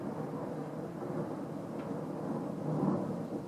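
Thunder rumbles low and distant outside after a lightning flash, a soft continuous roll that swells slightly near the end, with faint rain in the background and no talking.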